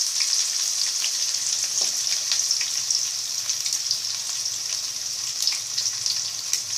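Onions for rava upma hit hot oil in a pan and sizzle steadily, a loud continuous frying hiss with faint crackles, heard alone without any voices.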